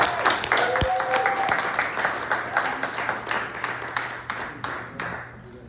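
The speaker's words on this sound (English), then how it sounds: "Just a round of applause for George Wallace and doing the series right here" At a poetry performance event, an audience breaks into applause, a moderately loud spread of clapping that holds steady and then thins toward the end.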